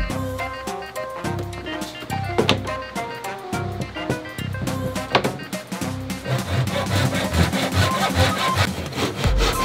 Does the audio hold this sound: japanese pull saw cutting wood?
yes